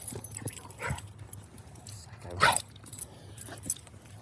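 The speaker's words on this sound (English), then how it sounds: "That's our cancer survivor dog right there." A three-legged dog moves about nearby, its metal tags jangling in light scattered clinks with one louder rattling burst midway, while people talk softly in the background.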